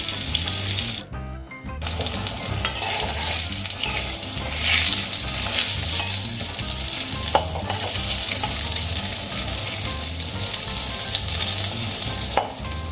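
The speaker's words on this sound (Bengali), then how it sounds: "এবার আমি পটলগুলোকে ভালো করে ভেজে নেব।" Pieces of pointed gourd (potol) fry in hot oil for a mustard potol dish, giving a loud, steady sizzle with occasional stirring scrapes and no talk.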